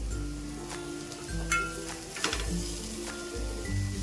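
Bitter gourd pieces fry with chili powder in a pan, giving a soft, steady sizzle with a few light clinks and stirring scrapes, heard alone at close range.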